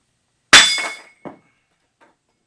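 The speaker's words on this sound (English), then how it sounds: "we're going to clobber it with a sledgehammer" A sledgehammer strikes a 3/8-inch steel drop plate: one loud, sharp clanging impact rings out and fades, followed by a second lighter hit and a faint third tap.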